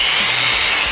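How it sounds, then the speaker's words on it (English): A new power drill bores through metal rivets during an Airstream trailer renovation, a loud continuous high whine with no pauses. "this new drill and drill bit made those rivets seem like Play-Doh"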